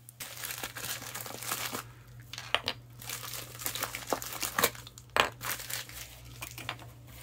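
Single foil sheets crinkle and crackle as they are handled, with close, irregular bursts of crisp rustling and brief louder crunches, and no talking.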